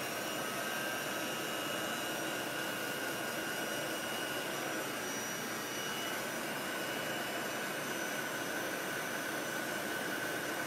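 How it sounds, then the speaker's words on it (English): A heat gun on its cool setting dries a chalk transfer, giving a loud, steady, unbroken blowing rush that stays close and constant throughout with no other sounds. "if you are using a heat gun and you're drying off any transfer, make sure that you have it on the cool setting"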